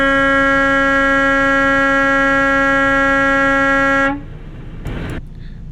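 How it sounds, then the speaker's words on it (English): A single loud, sustained truck horn blares for about four seconds at a truck stop, then cuts off, leaving low engine rumble and a brief thump. "I am not sure why you would just honk your horn when something's behind you"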